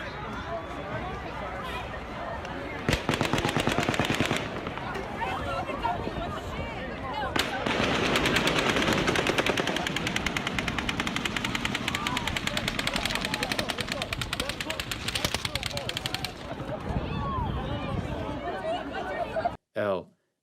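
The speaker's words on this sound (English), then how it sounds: "at 10:10 p.m., over 10 seconds of multiple gunshots are heard" Sustained rapid automatic gunfire recorded during the Las Vegas shooting, dense bursts of shots lasting many seconds with brief pauses, loud and continuous, with agitated voices and crowd noise underneath.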